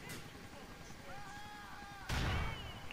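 A bomb detonates in GTA IV: a sudden loud blast near the end, close and heavy, following quieter game ambience and a voice talking.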